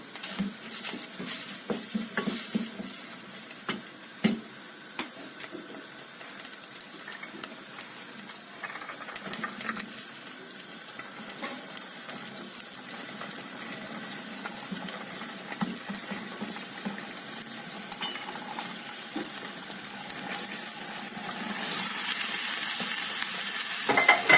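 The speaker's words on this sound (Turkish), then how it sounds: "Fasulye ile beraber kavuracağım." Beans roasting in a pan for İspir bean dish, stirred with a utensil: steady soft sizzle with scattered scrapes and clinks, growing louder toward the end, no talking.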